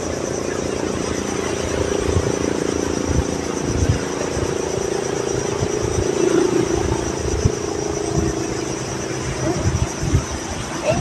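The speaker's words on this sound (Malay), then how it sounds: "Ada 2 buah helikopter kata cucu saya" Two helicopters pass overhead in Miri, their steady rotor drone filling the clip at fairly close range, with faint outdoor background and no talk.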